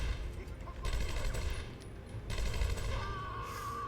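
Guards fire guns in Batman: Arkham Asylum in two noisy bursts of gunfire over a steady game soundscape, with voices heard throughout.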